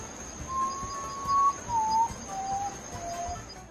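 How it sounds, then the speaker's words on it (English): A common potoo whistles a slow run of mournful notes, each held briefly and pitched lower than the one before, clear and fairly close over a quiet background with no talking. "The common Potu bird whistles a sorrowful succession of notes that descend in pitch"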